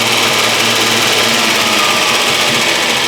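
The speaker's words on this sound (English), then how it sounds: "if I remove this clamp, I get a pretty high idle" A Renault 25 V6 Turbo engine holds a high idle, producing a steady, loud, buzzing drone with no change in pitch or level and no talking.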